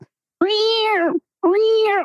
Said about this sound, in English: Is it like a symphony of cat meows? No, it's just an annoying old cat.